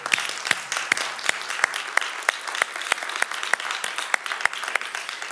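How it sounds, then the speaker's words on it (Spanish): A church congregation claps for about five seconds, each clap sharp and evenly spaced in a steady rhythm, with scattered hands joining in. "Denle un aplauso al Señor, por favor."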